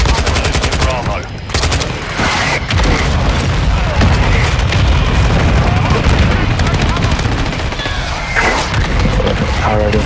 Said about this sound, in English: Got mortars down.